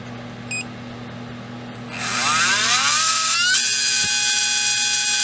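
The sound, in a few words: REDS Racing VX4 PRO 17.5T RC motor spinning during RPM test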